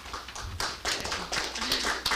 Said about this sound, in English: don't need to clap each time.